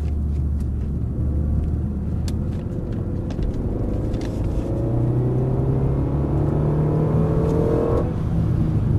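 A car engine drones and rumbles on the Circuit de Dreux track, then accelerates with a rising whine that climbs for several seconds before easing off, loud and close inside the vehicle.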